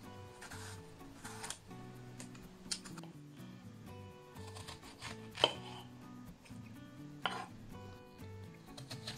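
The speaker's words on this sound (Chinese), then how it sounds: "先切成块，再切成小丁。" A knife cuts a peeled apple into small cubes on a board, making close, rhythmic chopping knocks in irregular bursts with a few sharper taps, and no talking.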